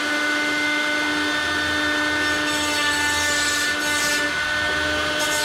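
A steady whirring tool works the edges of an aluminum RV-7A aircraft firewall during deburring, a continuous close hum with a few brighter scraping bursts near the end, no voices.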